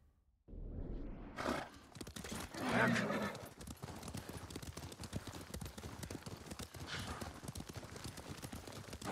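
In Ghost of Tsushima on PS5, horse hooves clip-clop in a steady rhythm and a horse whinnies once, close by and fairly quiet. The hoofbeats continue throughout after a short silent start.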